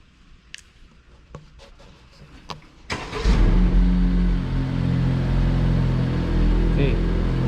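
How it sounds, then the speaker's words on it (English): After a few clicks, a Honda Civic engine cranks and catches, then settles into a steady, close idle that keeps running. "Let's start it, the car."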